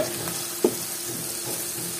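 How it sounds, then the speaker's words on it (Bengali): Onions and garlic fry in oil in a pan, a steady low sizzle with one quick clink of a utensil partway through and no voices. "এই তো রসুনের সাথে পেঁয়াজটা খুব ভালোভাবে একটু তেলে ভেজে নিয়েছি"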